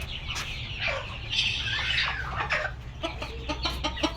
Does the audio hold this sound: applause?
no